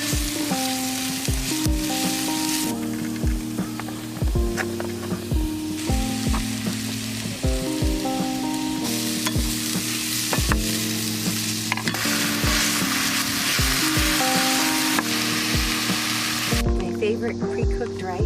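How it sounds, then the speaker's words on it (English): Vegetables and ginger stir-fried in a pan in a camper van, a steady loud sizzle with repeated scraping and clacking of the utensil against the pan, with no talk over it. "I'm gonna do a little stir fry."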